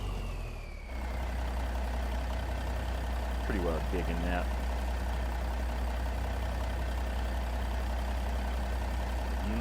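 A stretched Kenworth KW900 truck with a modified exhaust idles in American Truck Simulator with a steady low rumble throughout, while someone talks briefly over it.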